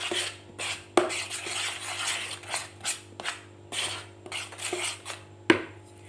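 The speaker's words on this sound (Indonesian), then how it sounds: "Kita aduk terus sampai merata." A utensil scrapes and knocks rhythmically against a bowl, stirring noodle dough with repeated strokes and occasional sharper clinks, over a low steady hum.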